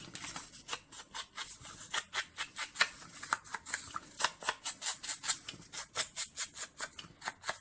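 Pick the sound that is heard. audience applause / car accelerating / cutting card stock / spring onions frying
cutting card stock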